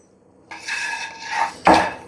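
A spoon scrapes through mango pickle in a pot after roasted asafoetida and fenugreek powder go in, giving a few close, short stirring scrapes and knocks against the vessel's side, the last one sharper.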